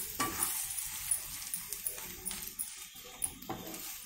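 Onions and a green chili, salt and spice paste frying in a pan for aloo bonda filling, with steady sizzling and a spoon scraping and stirring in irregular strokes, close and moderately loud with no talk.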